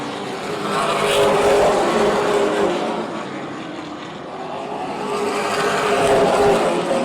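Super late model race cars at speed on an oval track, engines roaring in a sustained, throaty drone that swells as the pack passes, fades slightly, then builds again, loud and continuous with no talk.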